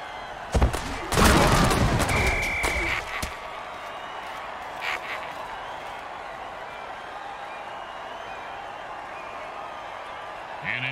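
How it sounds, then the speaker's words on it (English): A stadium crowd in the Mutant Football League video game swells in a burst of cheering and clattering noise, then settles into a low, steady murmur of background crowd ambience. "The home crowd isn't impressed with that showing"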